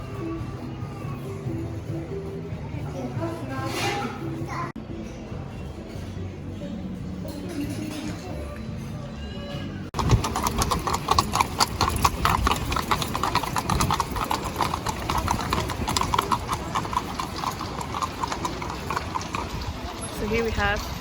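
Horse-drawn Fiaker carriages in Austria, hooves clip-clopping on pavement in a steady, fairly close rhythm that grows louder and busier midway, with people talking in the background.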